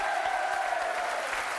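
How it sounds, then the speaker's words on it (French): A French game show studio audience applauds a contestant in a brief, dense burst of clapping that holds steady throughout. "On applaudit très fort notre ami de Reims."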